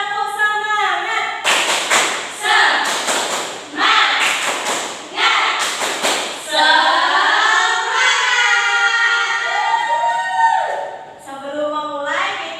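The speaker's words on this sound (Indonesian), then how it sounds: "1, 2, 3. Tepuk semangat." A primary school class performs the tepuk semangat chant, sharp rhythmic claps in quick bursts alternating with loud group voices chanting together, close and energetic in a classroom.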